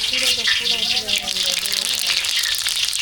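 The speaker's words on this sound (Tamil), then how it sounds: "இந்த இடத்துல எண்ணெய் நல்லா சூடாகிடுச்சு பட்டை வகையெல்லாம் சேர்த்துக்கலாம்" Cinnamon and spices hit hot oil at a temple kitchen preparing food for a special feast, giving a continuous loud sizzle and crackle with a watery hiss throughout.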